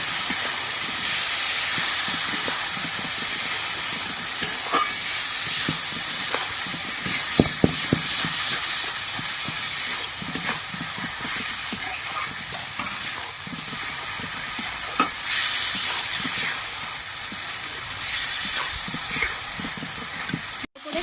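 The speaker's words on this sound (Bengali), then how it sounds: "ধুয়ে রাখা চালগুলো আমি এবার দিয়ে দেবো ভালো করে কষিয়ে নেবো" Washed rice stir-fried in a pan, giving a loud, continuous steamy hiss and sizzle with intermittent scraping and clacks of stirring throughout, no talking.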